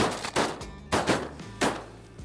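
Shotguns fire during a diver duck hunt on Chequamegon Bay, three sharp, loud reports spaced about a second apart, some doubled, with echoes trailing off over the open water.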